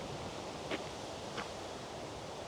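Wind blows outdoors in a broad, steady rush, with two brief faint gusts or rustles rising over the constant noise.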